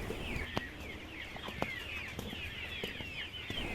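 Chickens and chicks in a natural farm setting, soft repeated peeping and clucking at moderate distance, a continuous high chirping chorus with occasional sharper calls over a low background hum.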